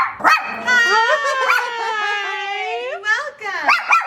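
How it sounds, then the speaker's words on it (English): A dog at home gives drawn-out whining, yelping cries close to the microphone, the pitch sliding up and down in a few bursts over several seconds. "We're not gonna bark, Momo."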